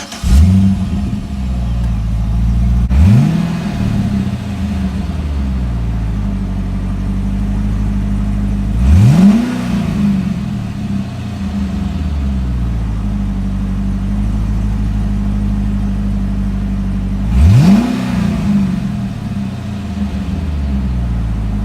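A supercharged 6.2-liter V8 in a 2011 Cadillac CTS-V coupe with a manual gearbox revs loudly and close up three times, each sharp climb falling back to a deep, steady idle rumble in between.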